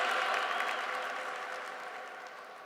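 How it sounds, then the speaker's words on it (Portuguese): Congregation in a church applauding during a priest's sermon, a steady wash of many hands clapping that slowly tapers off, ending with a brief thump. "Você aplaudiu porque eu dei uma gritadinha?"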